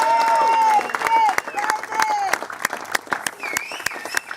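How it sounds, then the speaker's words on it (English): Wedding guests break into applause and cheering after a speech, a crowd of claps rising over a few whistle-like tones, then settling into lighter scattered clapping. "Ladies and gentlemen, let's give her a round of applause."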